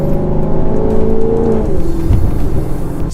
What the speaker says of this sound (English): Listen to that V8.